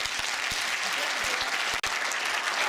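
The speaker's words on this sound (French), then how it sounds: "je vous demande de l'applaudir" An audience applauds in a cinema at a film preview, with dense, sustained clapping from many hands, steady and fairly loud, and a few sharper individual claps standing out.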